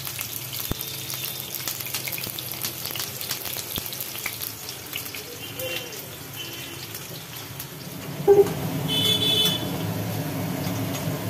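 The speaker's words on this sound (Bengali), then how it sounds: "আলুগুলোকে বেশ লাল লাল করে ভাজা হলো" Potatoes frying in hot oil for a home-style desi chicken curry, a steady close sizzle running throughout, with a louder burst near the end as more oil goes into the pan.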